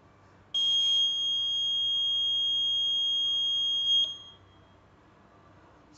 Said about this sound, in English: the buzzer will keep on sounding for as long as I keep my hand in front of the infrared